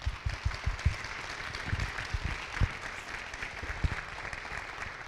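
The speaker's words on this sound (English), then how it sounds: "Would you all please join me in giving them a round of applause?" An audience applauds together at a high school celebration, a steady patter of many hands clapping throughout, moderately loud with no talk.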